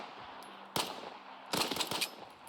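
Gunfire in the video game S.T.A.L.K.E.R. 2, heard as one sharp shot followed by a quick cluster of bursts, moderately loud against a quiet background.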